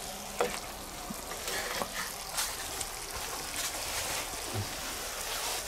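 A vegetable pan simmers on a charcoal grill with a steady, quiet sizzle and soft bubbling throughout, and a few faint clicks and stirring sounds.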